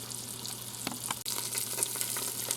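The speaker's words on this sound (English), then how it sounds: "I'm going to continue and get all the rest of this meat browned up" Beef pieces browning in oil inside an Instant Pot give a steady close sizzle, with a few sharp pops and clicks scattered through it.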